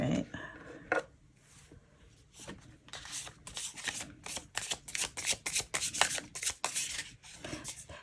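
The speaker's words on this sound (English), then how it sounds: "They're a little larger for me to shuffle a bit." Oversized tarot cards are shuffled by hand, giving repeated close, crisp riffling and rubbing bursts in an uneven rhythm, faint and intimate, with a quiet murmur of voice near the start.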